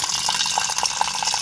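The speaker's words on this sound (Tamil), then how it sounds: "இப்போ நான் தண்ணி திறக்கிறேன்" Tap water gushing into a MarQ washing machine drum, a steady loud splashing flow with bubbling spatter, close up and continuous, no voices.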